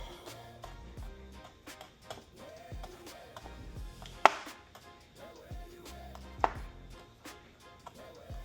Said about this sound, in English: It's frozen, but it's frozen garlic, but it should work the same, I think. We're gonna chop these up.